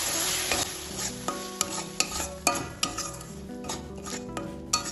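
Spices and whisked sour yogurt fried in oil in a pan while cooking okra in mustard paste, with a steady sizzle under repeated scraping strokes of a spoon and metallic clinks against the pan, close and alone.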